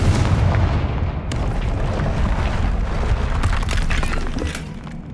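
Confringo fire spell explosions in Hogwarts Legacy, a dense run of loud booming blasts and crackling debris, one burst after another with no pause.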